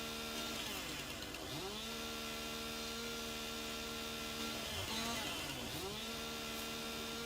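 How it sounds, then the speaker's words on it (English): Chainsaw stripping trees in the Farming Simulator video game, a steady engine drone whose pitch swoops up and down several times as it revs and bogs, moderately loud and alone. "How long before the noise of a chainsaw drives you nuts as well?"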